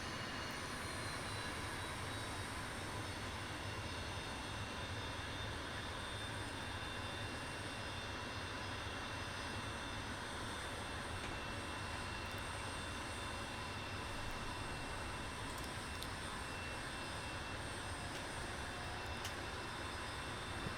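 Leonardo M-346 jet engine in Microsoft Flight Simulator holds a steady, broadband roar with a faint high whine on top, droning evenly for the whole stretch without any talk.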